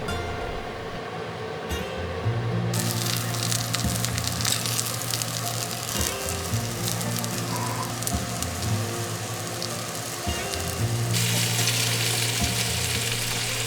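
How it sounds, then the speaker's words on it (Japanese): Salmon pieces, skin side down, fry over medium heat in melted butter in a frying pan, giving a steady close crackle and sizzle with occasional stirring clatter and swells in intensity; nobody talks. "フライパンにバターを熱し、鮭を並べて中火で炒めていきます。"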